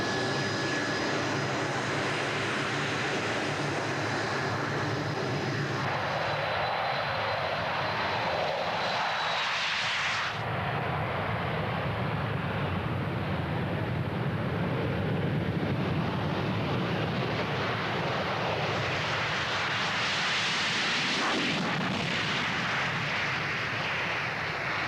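A Blackburn Buccaneer jet of the RAF, formerly Royal Navy, roars in flight in a loud, continuous engine rumble with shifting tone and wind rush, heard from inside the aircraft.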